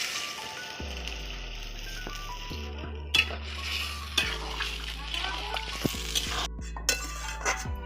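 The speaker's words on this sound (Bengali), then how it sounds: "এবার আমি এতে জল দিয়ে দেবো।" Egg and soybean curry sizzles and bubbles in a pan as water goes in, with stirring and clinks of a utensil against the pan, close and steady, under background music.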